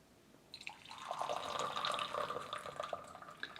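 Tea is poured out of gaiwans in a light, trickling stream into a vessel, close and quiet, with small drips and splashes over a few seconds.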